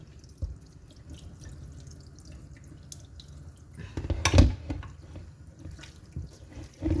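Tap water runs as food is washed under the faucet, a low steady splashing with drips that swells into a louder gush midway, then eases before a final burst.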